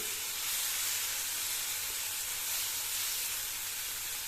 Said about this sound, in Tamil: அதையே வறுப்பட்டுக்கிட்டு இருக்கட்டும் பாவக்காய் நல்லா வறுப்பட்டுடுச்சு